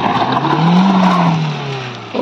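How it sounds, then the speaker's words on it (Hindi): A car strains up a hill road near the highest point in Jashpur, Chhattisgarh, its wheels slipping while the engine drones loudly and revs, the pitch rising then sagging, before an abrupt shift at the end; no voices. "गाड़ी स्लिप हो रही है।"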